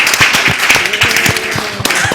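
Clapping from an audience at a live stage show, a steady patter of hand claps continuing for a couple of seconds while a voice talks over it.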